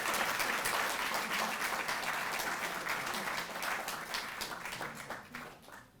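Loud, sustained applause from an audience at a government award ceremony honouring Olympic athletes, dense clapping holding steady for several seconds before tapering off at the end.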